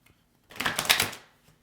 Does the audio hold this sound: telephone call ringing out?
no